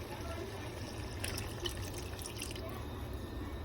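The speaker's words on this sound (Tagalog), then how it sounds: "So lagyan natin itong gata" Coconut milk is poured into vegetables sautéed in a little oil, giving a soft, continuous liquid trickle and splash with a few brighter drips, fairly quiet and steady throughout.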